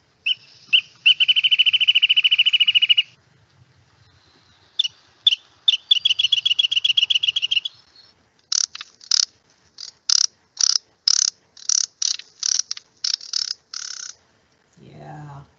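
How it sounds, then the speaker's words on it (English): A wrentit's song: a fast, even trill repeated a few times, then a bouncing series of sharp, separate notes that speed up slightly, clear and fairly close. "Yeah, that's the sound of a wren tit."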